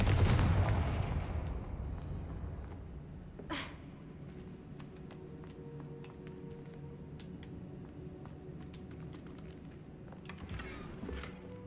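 A Confringo spell blast bursts loudly at the start in the video game Hogwarts Legacy, then decays into a faint rumble with scattered small crackles and a second sharp hit a few seconds later.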